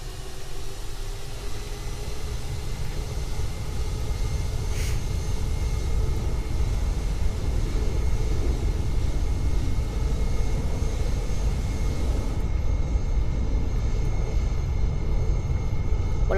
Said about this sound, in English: I'm now at takeoff runway 9er with my 747 Delta -400.